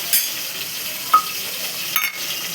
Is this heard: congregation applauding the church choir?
no